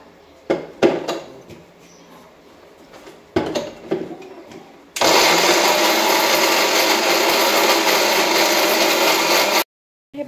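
Kitchen mixer grinder blitzing leftover chapatis into crumbs, a loud steady whirring grind lasting about five seconds and cutting off abruptly, preceded by a few clattering knocks and handling noises, no talking.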